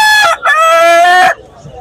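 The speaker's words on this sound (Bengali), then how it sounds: "দেশি মোরগ না?" A rooster at a bird market crows once, loud and close, a strong harmonic call broken by a short gap before the long drawn-out main note, followed by faint background noise.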